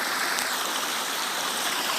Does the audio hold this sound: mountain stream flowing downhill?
yes